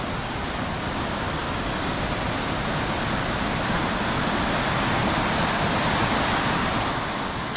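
Triberg Waterfalls, Germany's tallest falls in the Black Forest, pour in a steady, loud, dense roar of rushing water that fills the whole stretch without a break.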